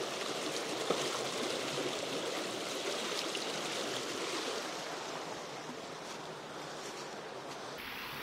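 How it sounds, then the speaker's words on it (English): A creek running high and fast with snow melt, carrying debris, gives a steady, dense rush of water at close range, loud and even throughout with no talking. "the high flow is creating a lot of debris in the creek"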